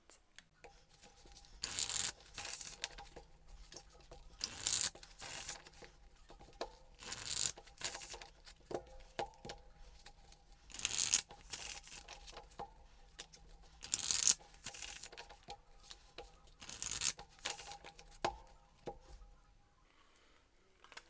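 Two Ethereal Visions tarot decks by Matt Hughes being shuffled by hand, giving repeated bursts of crisp riffling card noise roughly every two to three seconds, with quieter rustling between and a soft, close, steady room background.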